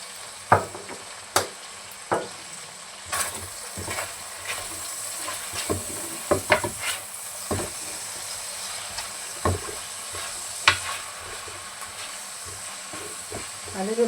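Pork ribs cooking in a pan with a splash of vinegar, a soft steady sizzle and hiss under scattered clinks and scrapes of a utensil, fairly quiet and close.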